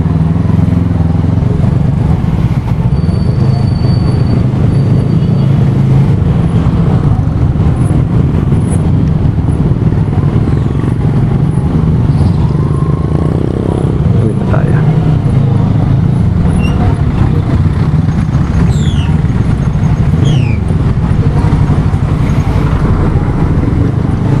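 Steady road traffic in Calao, with cars, motorcycles and buses rumbling continuously at close range, a dense low drone that never lets up.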